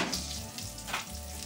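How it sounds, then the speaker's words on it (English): Sugar and margarine melt in a microwave while making caramel, giving a soft, steady sizzling and bubbling crackle, quiet and close, with no speech. "Sugar's melting nicely."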